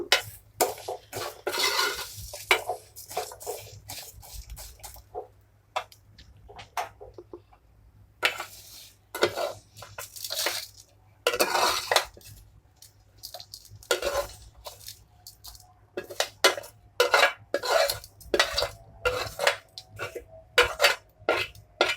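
Fried vermicelli being scraped from a metal pot onto a plate, a string of irregular scraping and clinking strokes of a spoon against the vessel, close and moderately quiet, with short pauses between strokes and no speech.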